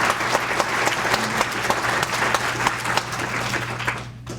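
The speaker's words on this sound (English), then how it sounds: "give yourselves a round of applause for coming out" An audience at an evening political gathering in West Central Illinois claps steadily and fairly loudly for several seconds, with a low hum underneath.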